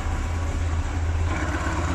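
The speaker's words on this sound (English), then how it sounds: "The engine's nice and quiet." A Yamaha R1 5JJ motorcycle engine idles low at about 1,000 rpm after restoration, a quiet, steady low burble close by with a soft hiss.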